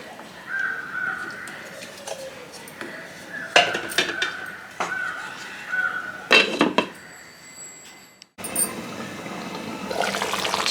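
Chicken cooking in a pan is stirred, with scattered metallic scrapes and clinks of a utensil against the pan over a low background of cooking sounds, with brief louder bursts near the end.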